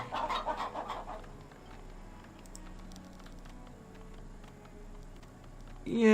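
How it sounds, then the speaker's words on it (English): Chickens in the village-building game Farthest Frontier cluck faintly in brief bursts, the loudest at the start, over a quiet game soundscape with a low steady hum. "Chicken."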